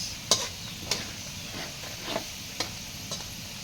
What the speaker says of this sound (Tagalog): Usa na to ilunod ang sibuyas.